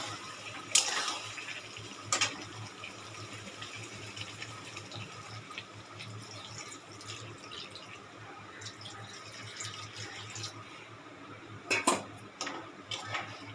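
Coconut milk poured into a pan of pointed gourd curry and stirred in, a soft steady sizzle and liquid wash with a few sharp clinks of a spoon against the pan, moderately quiet, no talking.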